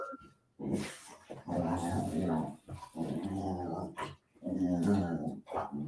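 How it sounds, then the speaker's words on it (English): Dog growling in several long, close, rumbling bursts separated by short pauses while rubbing itself on a carpet indoors, with whimpering edges between the growls. "I hear your dog is going fucking ham on something"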